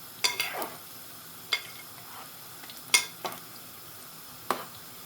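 Methi gota fritters frying in oil and being turned with a small spoon: a faint background sizzle broken by about six sharp scraping, clinking stirs spaced irregularly, close and quiet.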